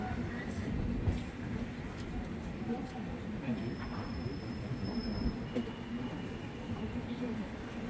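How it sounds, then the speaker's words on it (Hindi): The Vidarbha Superfast Express pulls away from a station platform with low rumbling wheels, rail clatter and faint squeals, heard near and continuous at moderate level. "Vidarba Superfast Express is now making for departure from platform 5."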